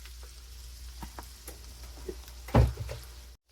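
Salmon nuggets frying in a pan, a soft continuous sizzle with scattered light pops and crackles and one louder clatter near the end, no talking.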